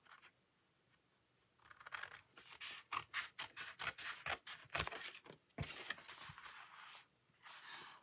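Scissors cut paper for a folded card in a run of quick, close, crisp snips with short pauses between, alone and without talk.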